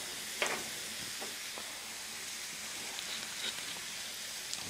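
About a tablespoon of butter sizzling in a well on a Blackstone griddle, a steady, fairly quiet hiss with faint crackles and no talk.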